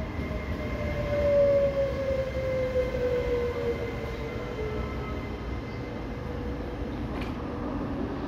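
A Trenitalia regional train arriving at a station platform, a steady rumbling roll with a long squealing brake tone and a brief sharp click near the end, heard without talk.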